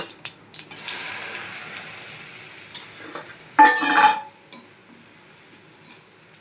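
Steady stirring of torn roti in hot oil tempering, a spoon scraping and tossing through a continuous frying sizzle, with a louder burst of clattering stirring midway.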